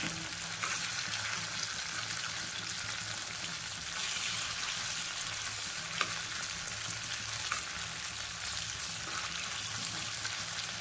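Chicken pieces fry in hot oil while being tossed in the pan, giving a steady, fairly quiet sizzle with occasional stirring scrapes and no talking.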